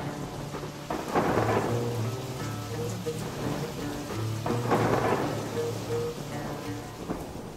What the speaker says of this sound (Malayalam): കൊടുങ്ങനെ ശക്തമായ മഴ പെയ്യാൻ തുടങ്ങി.